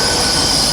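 Great Western Railway class 800 unit 800 007 arrives at Oxford on the 12:32 service to London Paddington, its wheels giving a loud, close, sustained high squeal over a steady rolling rumble.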